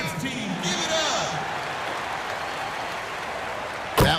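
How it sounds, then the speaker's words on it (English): Crowd applause at the Staples Center in a basketball video game for the Spirit Dance Team, a steady roar of clapping under arena noise and a voice, ending in a sharp burst. "Please, a big round of applause for your Spirit Dance Team."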